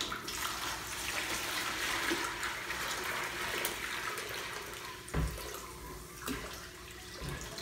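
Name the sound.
water poured into JBJ Cubey 15G aquarium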